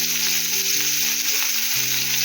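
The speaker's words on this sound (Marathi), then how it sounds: "सेम मगाशी आपण जसं हलवा फ्राय केलाय तशात ते बोंबील फ्राय करून घेते" Bombil (Bombay duck) fish frying in hot oil, a loud, steady, close sizzle holding evenly throughout with no other sounds.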